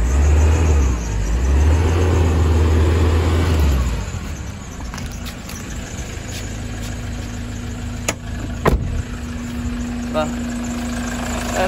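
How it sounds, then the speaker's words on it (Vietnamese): A 2010 Ford Transit van engine idles and revs with a loud low rumble, then settles quieter while a faint steady squeal from a worn drive belt runs underneath, with people talking over it. "Cái dây qua kêu hơi chít chít chít tí để anh chị thông cảm"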